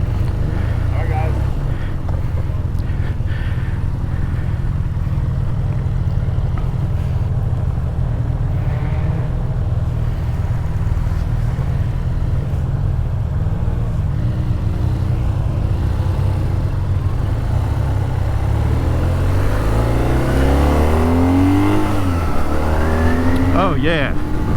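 A BMW R 12 S motorcycle on the road, its engine giving a steady, low, torquey drone under constant wind rush for the whole ride, with pitch shifting as the rider speeds up near the end.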